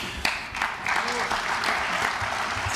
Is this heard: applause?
yes